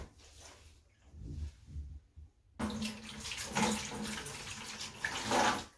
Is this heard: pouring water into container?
yes